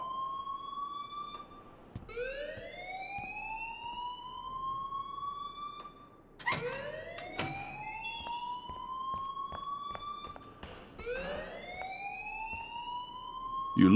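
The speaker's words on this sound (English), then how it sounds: "please turn off that alarm since that's your job" A school alarm in the video game Life is Strange blares in repeated rising electronic whoops, loud and continuous, with no voices over it.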